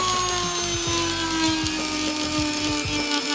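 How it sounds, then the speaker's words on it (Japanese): A power tool whines steadily and loudly while polishing the wood of a juniper (shimpaku) bonsai, holding one sustained tone with small rhythmic dips as the bit works across the wood. "だいぶ磨いてみました。"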